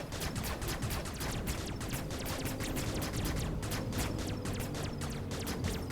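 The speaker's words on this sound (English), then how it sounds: "we're shooting all the walls again" Rapid, continuous weapon fire from shooting walls in the video game Metroid Dread rattles on steadily for several seconds as a dense, evenly paced stream of sharp blasts.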